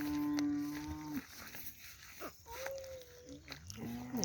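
A cow moos in a farmyard with two long, loud lowing calls, one at the start and one near the end, separated by a shorter call, while a dog and other farm sounds are heard faintly around them.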